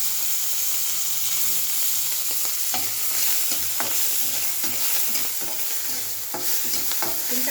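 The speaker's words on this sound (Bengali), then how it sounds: "আমি এই যে চিংড়ি মাছটা ছেড়ে দিলাম।" Shrimp fry in very hot oil, a loud continuous close sizzle with scattered pops and crackles throughout.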